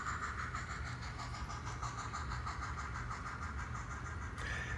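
HOn3 narrow-gauge model train rolling downhill with seven oil tank cars and a caboose, a faint, steady whirring motor hum with a light repeating clicking rhythm, continuous and unaccompanied by talk.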